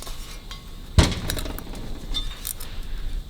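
A loose helicoil tang rattles in a threaded metal hole, a sharp metallic clink followed by a run of small tinkling rattles close by.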